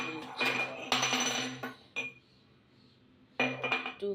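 A glass knocks and clinks against dishes in a kitchen in several short bright bursts, with a quiet pause before a final clatter.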